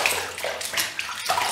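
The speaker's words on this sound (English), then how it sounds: "Then we're going to do the neck area, we're just going to go up. So we don't want to pull the skin, that's why we do it upwards. Okay, then you're just going to rinse your face" Lukewarm water splashing while rinsing a face, bright, continuous sloshing and splattering close up with a few louder splashes, no voices.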